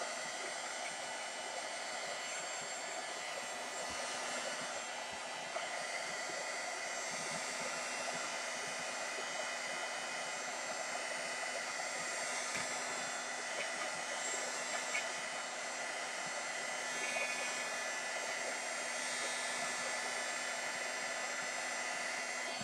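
A handheld heat tool drying paint on a canvas blows a steady, even whooshing roar that holds unbroken throughout, close and constant, with no talking over it.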